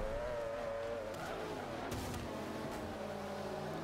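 A tuned 1150 hp Audi R8 racing in Forza 5, its engine droning steadily and loud throughout with a constant tone, plus brief scuffs of tire noise.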